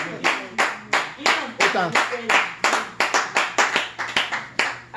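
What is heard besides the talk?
congregation clapping to acclaim Jesus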